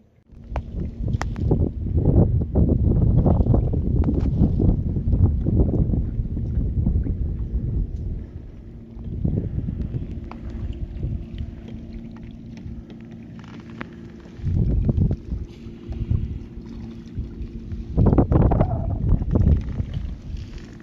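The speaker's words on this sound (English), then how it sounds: "We've been kayaking the mangroves for about an hour and a half. We found a channel that cuts out into open ocean" A kayak paddles across open ocean water off the Florida Keys mangroves, with loud, rushing wind buffeting the microphone in sustained gusts and paddle splashes mixed in.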